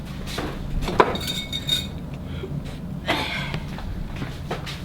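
A fork stirring a large batch of slime in a bowl, with sticky squelches and sharp metallic clinks against the container, close and moderately loud, with no talking.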